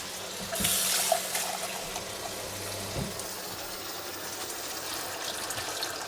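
Water is poured into a pan of paella cooking with passata, a steady splashing pour that swells briefly near the start and then continues evenly and close up.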